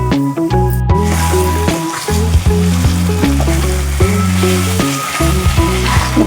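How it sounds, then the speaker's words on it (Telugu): Marinated chicken dropped into a pan of browned onions for a spicy green chicken curry, sizzling in a steady hiss beneath loud, rhythmic background music. "ఇప్పుడు మనం మ్యారినేట్ చేసి పెట్టిన చికెన్ని దీంట్లో వేద్దాం"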